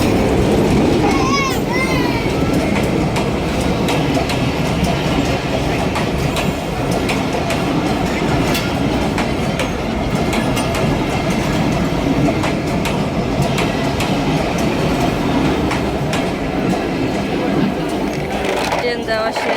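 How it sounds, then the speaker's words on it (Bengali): A train rolls along tracks running through a busy fish market, its wheels clattering loudly and continuously, with occasional squeals, while people's voices and market bustle sound underneath. "এখানে যে মাছ কাটা হচ্ছে, ট্রেন চলে আসছে।"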